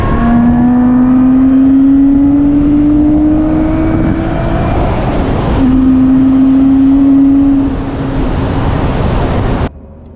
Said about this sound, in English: It's got some of the sort of supercar histrionics with the sound through this titanium pipe.